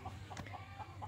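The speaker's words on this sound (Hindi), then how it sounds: "तो मुर्गे ये आवाज़ें निकालते हैं और वार्निंग देते हैं दूसरों को" Close, moderately loud clucking from chickens at a village dairy farm, a run of short alarm-like calls repeating at a steady pace over a low background hum.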